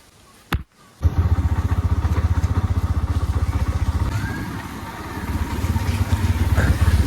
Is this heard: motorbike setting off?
yes